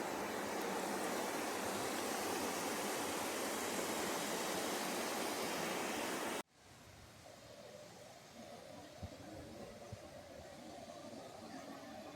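Steady, dense rush of falling water at the waterfall by Shivtharghal, Mahad, Raigad, fills the first half, then drops abruptly to a quieter, softer flow with a few faint knocks.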